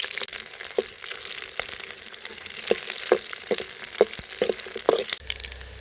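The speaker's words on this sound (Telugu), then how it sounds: "ఇప్పుడు పచ్చిమిర్చి మంచిగా ఫ్రై అయిపోయింది" A handful of green chillies fry in oil in a kadai, giving a steady soft sizzle with scattered pops and stirring clicks close by.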